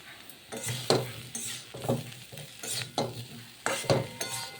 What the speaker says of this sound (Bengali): গোলমরিচ ভালো করে এইভাবে আলুটার সঙ্গে মিশিয়ে নিচ্ছি